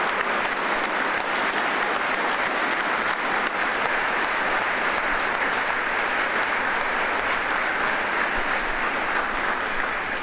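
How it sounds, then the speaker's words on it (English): Funeral mourners for fallen Chicago Fire Department Captain David Meyer break into sustained applause, a loud, unbroken wall of clapping filling a large space for about ten seconds. "Let's give him a round of applause"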